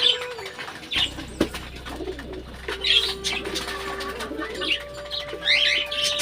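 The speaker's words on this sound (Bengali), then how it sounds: "এই যে বেবি কুমার কবুতর, তার বাচ্চা আর কি।" A pet pigeon and its young coo in a home loft, with wing flaps and a few chirps in between. The rolling coos repeat close and fairly loud across the clip, with a steady hum underneath.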